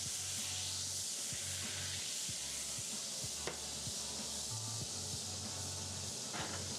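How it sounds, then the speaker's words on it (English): Tilapia fillets seasoned with Cajun spice sear in a pan, a constant soft sizzle and hiss with faint low hum underneath, fairly quiet and without talk. "you got a nice little sear going on."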